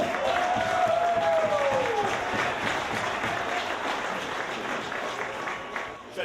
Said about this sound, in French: on applaudit encore une fois pour Matt et Marteau